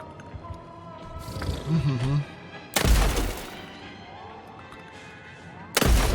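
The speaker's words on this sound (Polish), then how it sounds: "Widzicie jak to strzela?" Gunfire in the Atomic Heart video game: two heavy, booming shots roughly three seconds apart, each a sharp loud crack with a rumbling tail, over quieter background sounds and a brief voice-like murmur.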